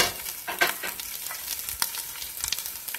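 Mashed potato with butter, garlic and onion powder is stirred and scraped in a pan over the heat: quick, irregular spoon scrapes and soft clicks over a light sizzle, close up.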